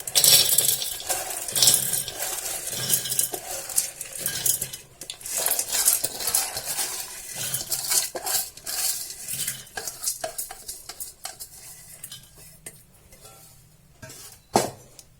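Dry urad dal and kidney beans rattle and clatter into a metal pressure cooker in bursts, with scraping and clinking of utensils and a few sharp taps.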